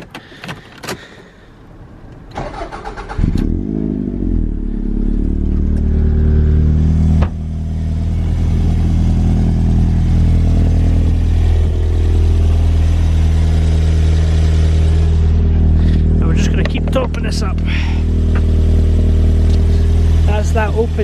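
Toyota MR2 SW20 engine during a radiator replacement, cranking briefly and then catching into a loud, steady, close idle with a short rev, while a person talks over it.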